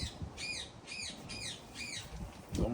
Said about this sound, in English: don't mind my bird Frankie